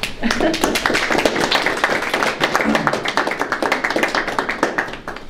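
A small room full of people claps for young taekwon-do athletes, brisk, fairly close hand claps, with voices mixed in.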